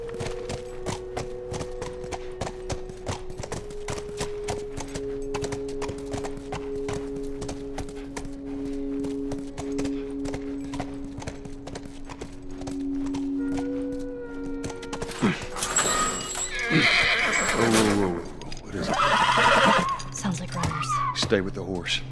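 Horse hooves clip-clopping and a brief whinny from a horse in The Last of Us Remastered, set under steady game music, with character dialogue and louder rustling movement near the end.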